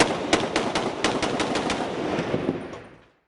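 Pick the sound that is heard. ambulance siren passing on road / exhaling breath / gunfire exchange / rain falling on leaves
gunfire exchange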